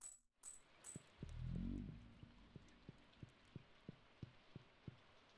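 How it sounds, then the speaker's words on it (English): Soft in-game rain in Stardew Valley runs as a faint hiss under a steady series of low, evenly spaced taps. A brief swelling rumble sits near the start, and no one speaks. "And it's raining in-game"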